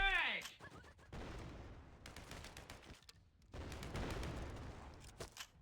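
Rapid gunfire in a shooter video game, with bursts of shots firing in quick clusters separated by short pauses. A voice talks over the shooting.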